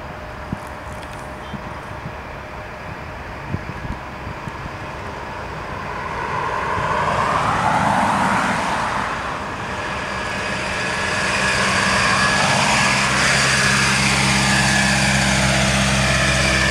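Rolls-Royce engines of an Airbus A350 airliner roar from outside at a remote airport stand, growing from a distant hum into a broad rushing whine that swells twice, with faint clicks early on.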